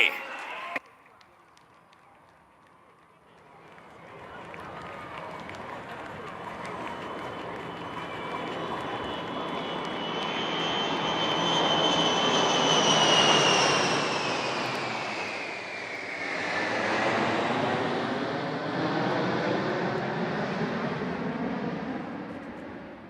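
Military aircraft fly past in formation over Marina Beach in Chennai during an aerial display. A broad, building jet roar swells to a loud peak as they pass and then fades, with an announcer's voice and crowd noise underneath.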